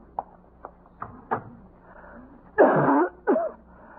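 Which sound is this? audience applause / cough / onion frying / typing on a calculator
cough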